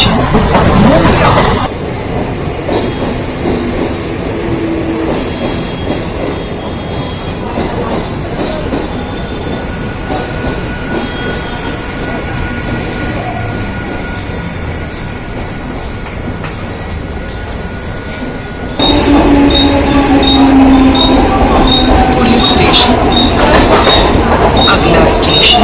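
A Mumbai local train travels between stations on the Titvala to Boisar line via Dadar, a loud continuous rumble and rattle of the carriage with wheel noise, growing louder and brighter near the end as the train speeds up.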